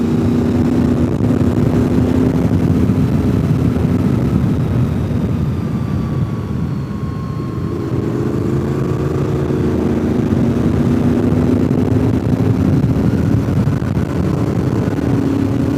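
Y2K Honda VFR motorcycle riding a mountain road, a loud steady engine drone with wind rush that dips briefly in pitch mid-ride before climbing again, continuous throughout with no talk.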